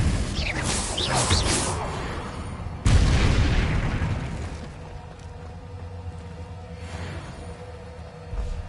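A Confringo spell from Hogwarts Legacy explodes with a loud whooshing burst, followed by a second heavy boom that decays into a rumbling tail, with a quieter thump at the end.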